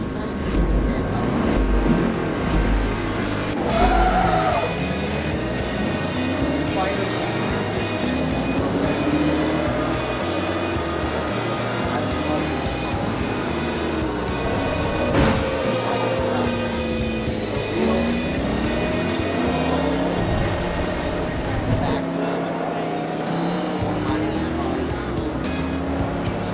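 A Mercedes-Benz CLK55 AMG racing in Forza Motorsport 3, its engine droning and revving steadily with rising and falling pitch alongside other cars, while a person talks over it throughout.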